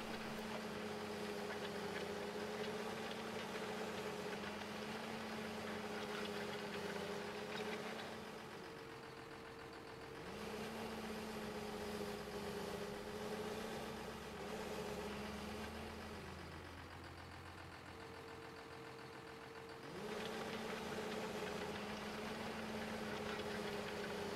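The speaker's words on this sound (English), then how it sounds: "sometimes it's just fun to drive the tractor" A tractor engine in the video game Farming Simulator 15 runs with a steady droning hum, its pitch dipping and rising as the load changes, continuous and fairly even with no talk.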